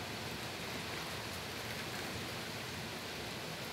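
Heavy, steady rain pours down in an unbroken, even wash of noise, moderately quiet and without pauses or talking.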